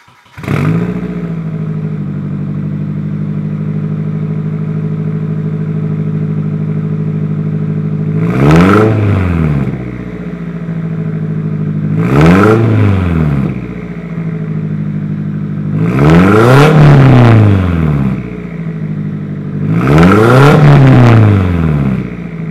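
A turbocharged Nissan 240SX idles through an ISR exhaust, then revs four times in sharp bursts, each climbing and falling back to a steady, close, loud idle with no talking.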